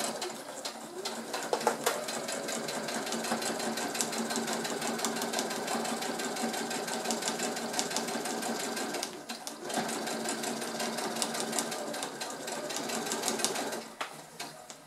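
A sewing machine runs in long, steady bursts stitching a fabric seam on a reusable shopping bag, its fast rattling needle loud and close, pausing briefly twice, with faint pigeon cooing in the background.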